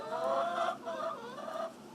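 Several chickens belonging to a Lewis County man cluck and murmur close by in short overlapping bursts, a busy, fairly soft flock chatter with no voices.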